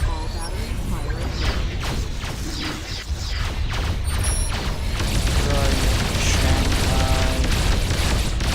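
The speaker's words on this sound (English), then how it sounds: "All batteries firing." Warship batteries firing in the Dreadnoughts game, heard as a dense, continuous roar of booms and mechanical clanks that builds steadily louder. A voice talks over it.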